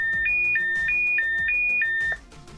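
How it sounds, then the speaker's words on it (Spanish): Retevis RT3S handheld DMR radio sounding its man-down alarm: a shrill two-tone electronic beep repeating rapidly about six times in a steady pattern, then stopping abruptly, with faint background noise underneath. "Ese es el sonido de hombre caído."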